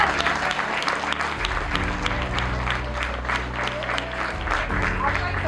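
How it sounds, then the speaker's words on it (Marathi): An audience claps at a meditation gathering at Mantralaya: a dense, sustained round of applause fills the whole stretch, with low tonal background sound and voices mixed underneath. "टाळ्या."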